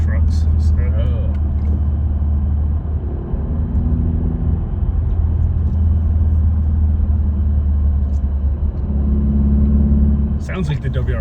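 Exhaust from a Subaru Legacy 2.5 fitted with a Nameless axle-back muffler drones as a steady low rumble, heard close and continuous, with voices briefly audible alongside.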